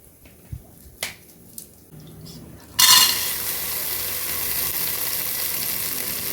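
Beans hit a hot pan for dry roasting and burst into a sudden, steady sizzle and hiss. A few light clicks and taps come first.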